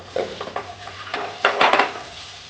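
Eggplant and drumstick flowers tipped into a pan of half-boiled potatoes, a series of close clattering knocks and scrapes of utensil against metal with a faint sizzle beneath.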